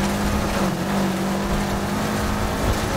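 A race car in Need for Speed Heat drives on an offroad circuit with a steady, loud engine drone that holds a constant pitch throughout, with no voices heard.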